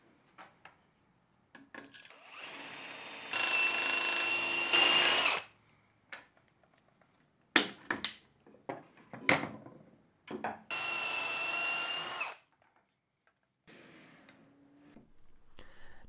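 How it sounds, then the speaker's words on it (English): A jig-guided drill boring holes in wood for Peanut mini joinery connectors, in several separate bursts of steady whirring with quieter handling clatter and rubbing between them, close and alone. "Drilling the holes for the peanuts"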